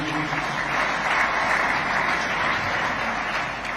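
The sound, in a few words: audience applause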